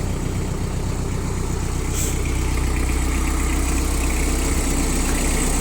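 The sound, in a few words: tractor engine idling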